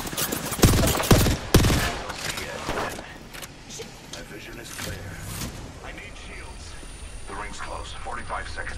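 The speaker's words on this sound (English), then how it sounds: "Listen up, I'm getting shot at." Gunfire in Apex Legends opens with a few loud, sharp bursts close by, followed by quieter scattered shots and game sounds. Talk runs through the rest of the scene.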